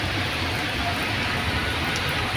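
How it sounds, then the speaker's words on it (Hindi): Heavy rain pours down in Bengaluru on a flooded, jammed road, a dense, steady hiss of water filling the whole short stretch without a break. "इतना बारिश दे रहे बेंगलोर में"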